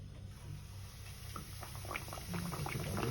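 A breaded tonkatsu pork cutlet deep-frying in oil at about 180 degrees, a soft steady sizzle and bubbling that grows denser and a little louder as it goes, with no voices.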